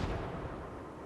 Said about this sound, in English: I don't know why I just threw a grenade.